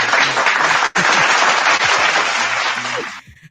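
Audience applause fills a hall in a steady dense burst of clapping, loud and close, with a brief dip near the start before fading out at the end.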